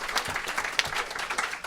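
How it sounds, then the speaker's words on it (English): Live audience at a comedy show taping clapping steadily, a dense, even wash of applause held for a short burst without any clear voices over it. "Give yourselves one more round of applause."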